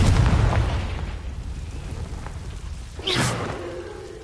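A Confringo blasting spell explodes in Hogwarts Legacy: a rumbling, noisy blast at the start fades, then a sharp whooshing burst follows near the end.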